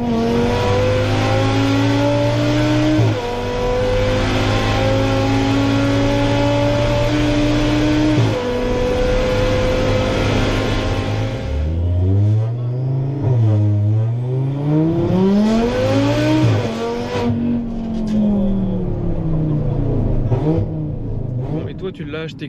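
A stage 3 tuned Audi TT RS engine revs hard nearby, its pitch climbing and falling in repeated bursts with sharp throttle blips, while people talk over it.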